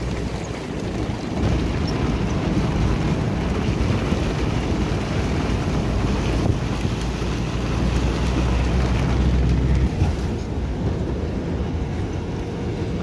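Heavy rain falls on waterlogged farm fields and bubbling puddles, a dense, steady wash of noise that stays constant and loud throughout.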